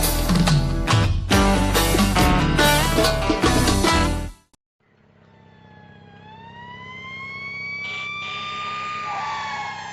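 A police siren in the street, entering after a burst of loud music cuts out and then wailing steadily with rising and falling tones, growing gradually louder and closer.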